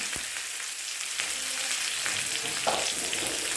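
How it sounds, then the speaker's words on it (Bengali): Chopped onion dropped into hot oil for a potato curry, a loud crackling fry that holds steady with stirring scrapes and a few sharper clatters, close up and without voices. "দিয়ে দিলাম অল্প পেঁয়াজ কুচি"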